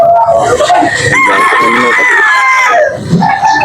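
A rooster crows loudly and close, a long drawn-out call, with clucking and other fowl noises around it, at a chicken market in Carbon, Cebu.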